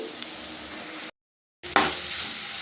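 Masala for a chickpea curry fries in a pan with spices and ginger-garlic paste, a soft, steady sizzle with light stirring that cuts out briefly to silence before resuming louder.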